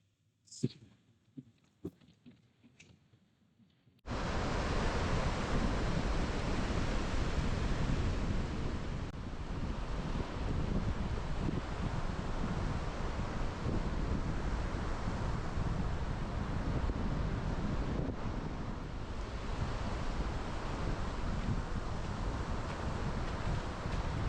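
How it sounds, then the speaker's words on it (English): Strong wind buffets the microphone on a seashore during a tidal fishing session for flatfish and bass, a steady loud roar with surf mixed in that holds throughout after a quieter opening with a few knocks. "this wind is quite challenging today, to be fair"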